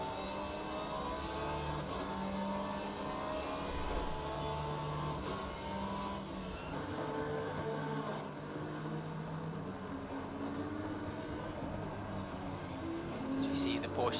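Porsche race cars in the racing game Assetto Corsa Competizione, engine drones rising and falling as cars pass and shift, held at a moderate level with commentary talking over them.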